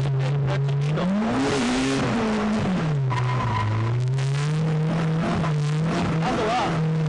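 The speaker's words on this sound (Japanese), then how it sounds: "回転をですね、ちょっと4000回転で上げてクラッチと。" A car engine is held at about 4000 rpm for drift practice, its loud steady drone rising and dipping as the revs shift, with tire squeal and skidding noise mixed in close by.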